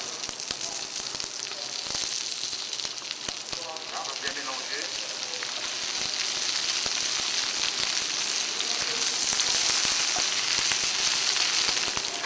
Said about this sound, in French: Et on va revenir tout de suite le bambou.